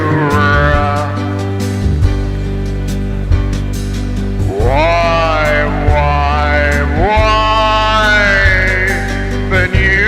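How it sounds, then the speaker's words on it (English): A short pop jingle for Sri Lankan cricket bowler Binura Fernando plays loud and upfront, with a steady bass pulse under bright sliding vocal lines. It forms one continuous musical passage with no commentary over it. "Binura, yeah, we do have a jingle for him."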